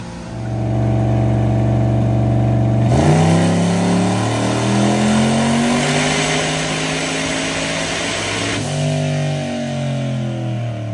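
A small turbocharged race car engine revs hard under about 8 pounds of boost during pre-race testing, loud and close, with a sharp climb in pitch partway through and sustained high revs to the end.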